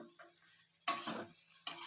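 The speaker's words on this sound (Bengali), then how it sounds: "এবারে ভালো করে ভেজে নিলে হয়ে যাবে।" Flattened rice pulao is stir-fried in a pan, giving two brief bursts of scraping, rustling stirring noise over a faint sizzle.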